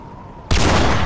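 A single sniper rifle shot rings out in Call of Duty 4: Modern Warfare Remastered, one sudden loud crack following a quiet hum, then a sustained booming tail.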